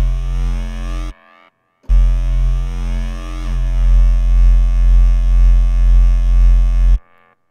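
A drum and bass synth bass plays loud, distorted, buzzing sustained notes in two bursts separated by a short gap, each ending with a brief reverb tail.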